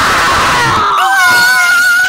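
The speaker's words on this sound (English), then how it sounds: "Screaming sound wave!" A screaming sound-wave attack from a video game: a shrill, wailing scream with a sliding pitch, loud and sustained for about two seconds, with no talk over it.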